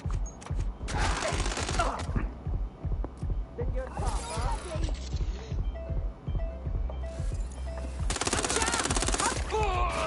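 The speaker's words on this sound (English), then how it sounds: "I'm getting shot by a shotgun from behind" Shotgun fire from behind in the online game Watch Dogs Legion comes in loud, rapid bursts separated by short pauses, with a player's voice talking between and under the shots.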